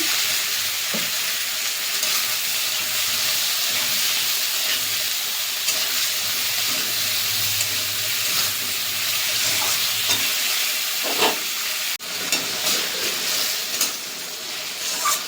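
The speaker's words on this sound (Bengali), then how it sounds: "একটু ভালো করে ভেজে নেবো।" Ridge gourd frying in a pan for katla fish curry, a steady broadband sizzle running the whole time with a few stirring knocks and a brief low hum partway through, fairly loud and close with no voices.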